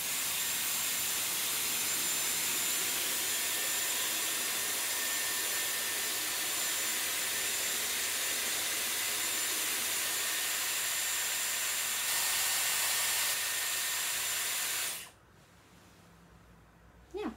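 A Dyson Airwrap styler blows air through its curling barrel in a loud, steady whoosh that runs unbroken, then cuts off abruptly near the end, leaving quiet room tone.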